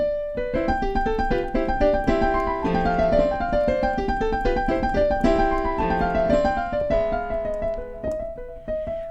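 Rapid piano runs of thirty-second notes from Beethoven's Für Elise ripple up and down in quick succession, dense flurries of notes played cleanly with no voices.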